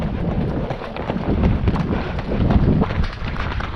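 A horse's hooves clop steadily on the ground nearby, an uneven run of thuds over about four seconds with some wind noise on the microphone.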